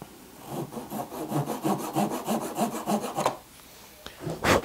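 A hand saw cuts off excess wood from a kumiko piece, making about a dozen quick, rhythmic rasping back-and-forth strokes close by, then a pause and one last sharp scrape.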